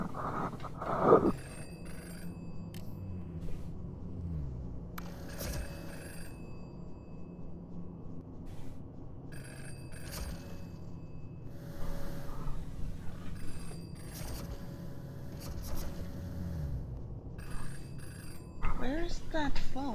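A telephone rings inside a VR video game, its repeated bursts of ringing spaced out over the scene while a person talks over and between them.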